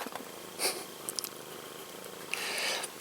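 A cat purring while perched on a person's shoulder, a soft steady low rumble close to the ear, with a few faint rustles and a brief louder breathy burst partway through.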